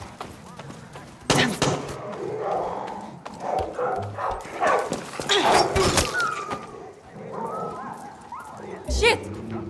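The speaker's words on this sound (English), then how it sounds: "That's my dog." A dog in the video game Far Cry 6 barks and whimpers in short bursts, mixed with game dialogue voices and a few thuds.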